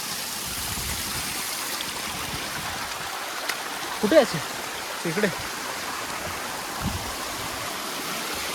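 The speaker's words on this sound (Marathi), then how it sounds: "इथे पण धबधबा है छोटा सा का होईना" A small waterfall and stream near Nageshwar temple in the Sahyadri hills makes a constant, soft rushing of water, while people talk briefly and quietly nearby.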